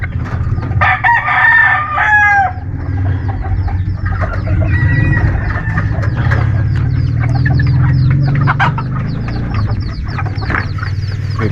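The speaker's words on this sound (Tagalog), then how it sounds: "Ito naman maliliit po to, klase ng mga manok." Small chickens cluck steadily while a rooster crows loudly near the start, with bird calls scattered over a constant low farmyard hum throughout.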